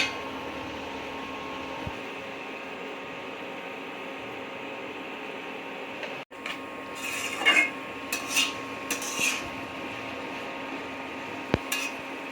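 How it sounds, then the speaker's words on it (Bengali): Peas and rice being stirred in a frying pan with a utensil, several scraping and clinking strokes clustered midway over a steady background hum, fairly quiet and close, with no talking. "তারপর দিয়ে দিচ্ছি মটরশুঁটি, এখন ভালোভাবে নেড়ে ছেড়ে দিব"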